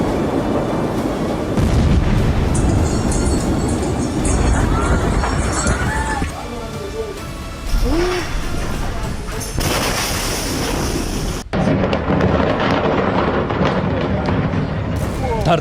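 Chaotic footage of the Beirut port explosion in Lebanon: loud, sustained rumbling roar with crowd-like hubbub and shouting, sharp bursts, and an abrupt jolt near the end.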